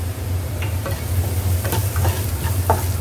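Malai garlic soya chap fries in a pan, a close sizzle broken by small scraping clicks and knocks as the pieces are stirred.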